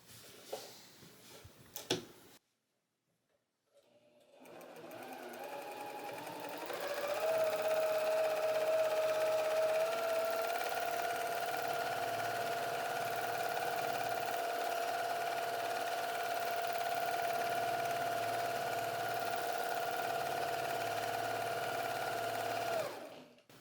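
A domestic sewing machine runs in one long steady burst while free-motion quilting a meandering stitch, a sustained motor hum with needle chatter, close and loud after a few brief knocks and a short pause.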